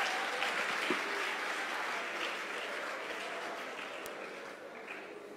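A church congregation applauding to acclaim the Lord during a Sunday service: steady, dense clapping that fills the whole clip and slowly fades a little toward the end.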